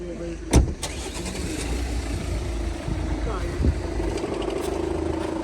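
Skoda car engine rumbling steadily at close range after a sharp burst near the start, a second brief surge midway, with low talk mixed in.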